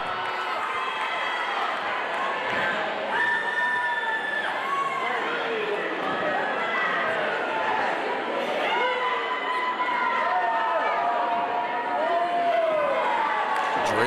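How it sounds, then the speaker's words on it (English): A wrestling crowd at an outdoor brawl event roars and cheers steadily throughout, with shouts and whistles rising above the din and a commentator talking over it. "And this crowd is going crazy for the urban legend."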